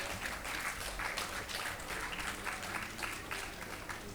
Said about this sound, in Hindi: कृपया हमारे कलाकारों के उत्साहवर्धन के लिए तालियां।